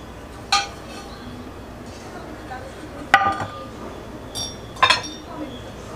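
Ceramic plate and small lids clink and knock together in three or four sharp, separate touches as they are handled, set against a quiet room hum.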